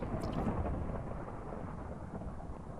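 Low, rolling rumble of thunder in Minecraft with the Parasites mod, swelling and lingering, with a steady broadband roar underneath and no voices.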